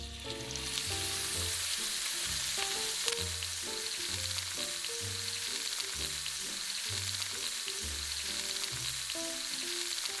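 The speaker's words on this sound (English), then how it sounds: "when the fat touches the oil, you can see the fat naturally begins to render itself" Duck fat sizzling and rendering in oil heated to its smoking point, a steady, close, dense crackle with bursts of popping and no talk.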